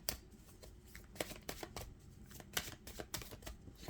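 Tarot cards are shuffled and drawn by hand at a reading, giving soft papery riffles and sharp flicks in irregular bursts, close and fairly quiet.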